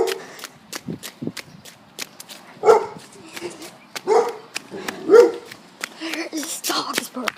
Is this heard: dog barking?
yes